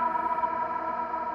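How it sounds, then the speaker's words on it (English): An electric guitar plays through a Meris Mercury X reverb pedal with its ladder filter engaged, giving a steady, filtered, sustained tone with a shimmering wash, quiet and without voices. "You hear how it's suddenly filtered."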